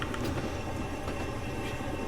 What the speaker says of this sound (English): Actually driving the train.